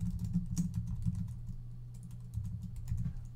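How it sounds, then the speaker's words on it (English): Fast, continuous typing on a computer keyboard, close and clear, with a steady patter of keystrokes and no voices. "So we'll just type in, I think I did all caps"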